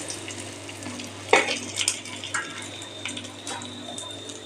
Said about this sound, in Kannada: ನಾನು ತೆಗೆದು ಪ್ಲೇಟಿಗೆ ಹಾಕ್ತಿದ್ದೇನೆ